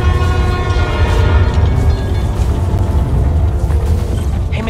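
A subway train in the New York setting of the Spider-Man Miles Morales video game rumbles past loudly and steadily, with a continuous roar and faint wheel clatter throughout.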